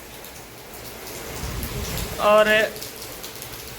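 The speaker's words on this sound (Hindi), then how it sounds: "गाइस बारिश आ रही है बहुत जबरदस्त तेज" Heavy rain pours steadily outdoors, a dense wash with a louder burst of spattering near the middle, while a person speaks briefly over it.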